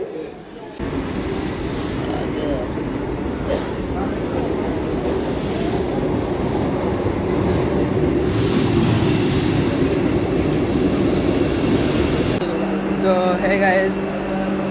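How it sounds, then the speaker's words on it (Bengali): A Patna–Howrah Vande Bharat Express rumbles loudly and continuously alongside at a station platform, wheels grinding on the rails, while a public announcement plays over a station speaker. "Patna Howrah Vande Bharat Express is arriving on platform number 4"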